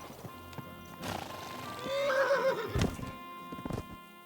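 A horse whinnies in the medieval role-playing game Kingdom Come Deliverance, a rising, quavering neigh of about a second mid-clip, with light hoof clops and game ambience around it.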